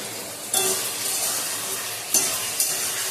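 Spice paste hits a sizzling pan for a fish curry, giving a steady hiss and crackle of frying, with a few sharp bursts of louder sizzling as more is added and stirred, close-up and without speech.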